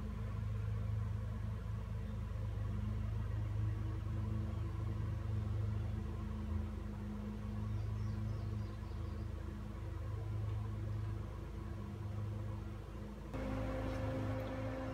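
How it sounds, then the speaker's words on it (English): A solar-powered household air conditioner's compressor kicks on near the end, adding a stronger hum and new steady tones over a constant low drone, with no talk. "Compressor just kicked on"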